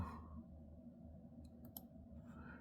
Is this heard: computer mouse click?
yes